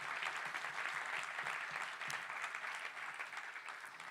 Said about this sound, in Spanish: Dele un aplauso a Él.